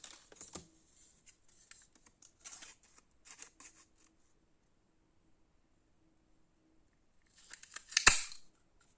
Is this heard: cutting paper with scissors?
yes